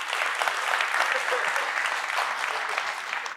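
A conference audience at a tech talk on Kubernetes load testing with k6-operator claps together in a dense, steady round of applause that holds at an even level for several seconds before easing off at the end.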